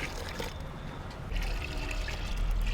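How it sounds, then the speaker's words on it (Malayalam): Water trickles and splashes quietly into a container holding organic jaiva slurry made with bone meal, the flow growing a little fuller and louder partway through. "ഇതിനകത്ത് കുറേ കൂടെ വെള്ളം ചേർത്ത് വെക്കാം"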